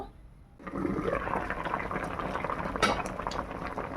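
Jackfruit boiling in salted water in a pot: after a brief quiet moment, a steady, full bubbling rush sets in and holds close and fairly loud throughout.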